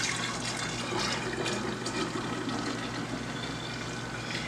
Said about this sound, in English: I'm gonna pour the lemonade in here.